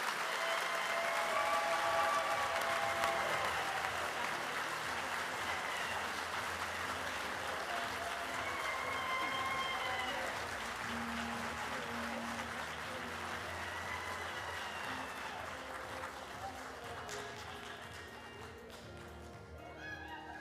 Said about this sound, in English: You don't have to stop clapping.